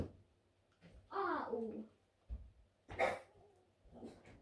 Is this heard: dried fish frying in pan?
no